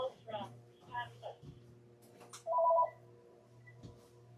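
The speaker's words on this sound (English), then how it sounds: "Sorry for the distraction of the phone." Telephone ringtone, a short electronic two-tone trill sounding once amid quiet talk indoors.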